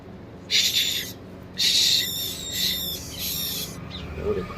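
Sparrow chicks in a nest give shrill, high-pitched begging calls for food in several bursts, close by and fairly loud.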